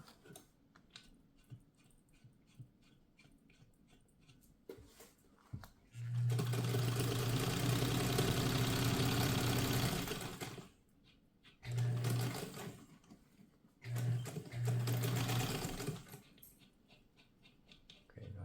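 A Singer 66 sewing machine runs in a steady whirring, ticking hum for several seconds. Shorter stitching bursts follow with pauses and quiet handling clicks between them, close and fairly faint.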